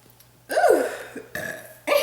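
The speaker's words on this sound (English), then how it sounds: "sit down, relax, and burp my life away" A woman lets out a couple of short, throaty burps in quick succession, close and loud against a quiet room with a low steady hum.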